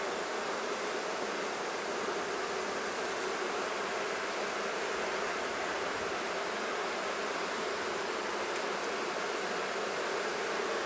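Honeybees buzzing around hive frames during a hive inspection, a dense, steady hum of many insects that fills the whole stretch at moderate loudness, close by and without talking.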